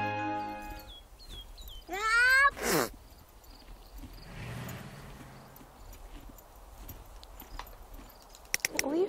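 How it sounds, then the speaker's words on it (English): Horse hooves clip-clop in The Sims 3, mixed with chirpy, bouncing electronic sound effects and brief tonal blips. "Leave the horse alone, Janet."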